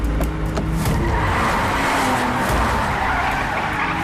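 A car speeds and skids in a chase scene from a dubbed 2022 action film, with tires squealing over a loud, steady engine roar that holds for the whole stretch.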